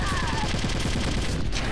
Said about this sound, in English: I'll swap over to the FAMAS now. If I can get a headshot.